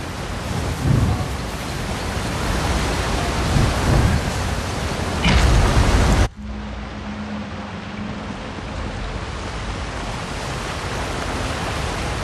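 Roaring waterfall rush in the video game The Elder Scrolls Online, a dense broadband torrent that stays steady and loud, then drops suddenly to a softer, more distant water wash with a faint low hum beneath.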